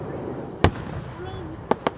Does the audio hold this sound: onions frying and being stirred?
no